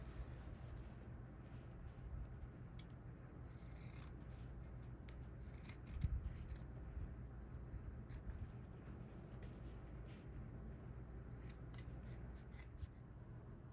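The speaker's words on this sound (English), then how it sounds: "we're going to take our scissors, and we're going to cut each corner" Scissors snip through fabric corners for a zipper pouch, quiet, close, crisp cuts repeated in short clusters over a faint background.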